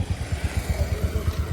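A scooter putters along a road with a rhythmic, low engine chug pulsing about four times per second, moderately close and fairly quiet.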